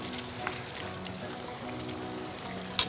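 Water is poured onto rice in a home kitchen, a steady soft trickle at low level with a faint clink near the end.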